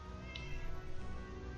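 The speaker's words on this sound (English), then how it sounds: "that's a living kitty" A cat meows in the video game Fallout 4. It is a quiet, brief cry over a low, steady game ambience, with no talking.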